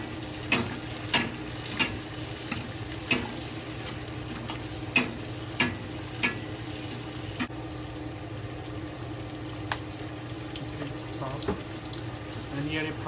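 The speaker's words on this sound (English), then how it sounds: "Then we need a chopstick to fry, stir, mix." Garlic scapes and bacon stir-fried in a pan, a steady close sizzle broken by sharp, regular clicks and scrapes as a chopstick stirs and taps, fading slightly partway through.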